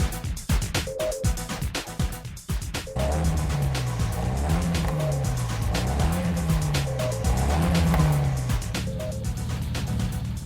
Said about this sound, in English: listen to the tunes of this exhaust